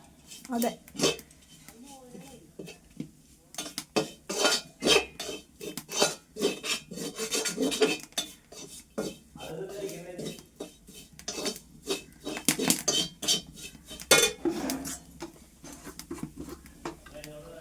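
A spoon scrapes and rubs against a pan while coriander powder is sautéed for a chicken biryani, giving repeated close rasping strokes in an uneven rhythm, with occasional faint voices in the background.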